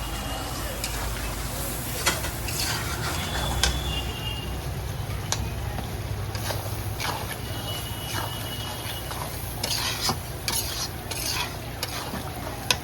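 Chicken meat cooking in its own released fat in a pan without added oil, a close continuous sizzle broken by irregular sharp spoon-on-pan clinks and stirring scrapes, with light background noise.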